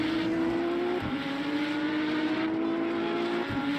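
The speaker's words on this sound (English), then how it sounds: "Lamborghini versus BMW." Engines of a Lamborghini and a BMW race car at Monza in Le Mans Ultimate, a steady loud high-revving drone with brief gear-shift dips, close and continuous without talk.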